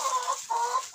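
Pushkin breed hens and a rooster in a farm flock, a brief pair of soft clucking calls close by with a sharper note at the end, no talk.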